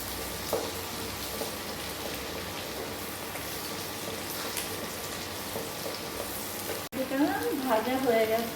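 Chopped onion, ginger and tomato frying in a pan for dim tarka make a continuous close sizzle with light stirring, ending in a louder burst of crackle.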